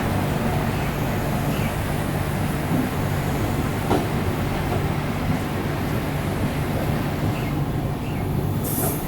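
An Indian Railways double-decker express runs from Ahmedabad to Mumbai, heard from inside as a steady, loud rumble with continuous rolling wheel noise and clickety-clack. No one speaks.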